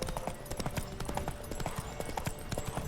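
Galloping horse hooves pound in a quick, steady rhythm during a race in The Witcher 3, close and continuous across the whole stretch, with game ambience underneath.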